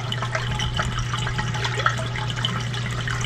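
A submersible pump in a koi pond filtration system moves water, giving a continuous soft trickle and gurgle over a low steady electrical hum, with occasional small splashes.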